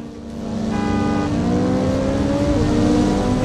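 A car in the Forza Horizon 5 racing game accelerates hard, its engine note climbing steadily in pitch as it revs up. The sound is loud and close, continuous, and has no talking over it.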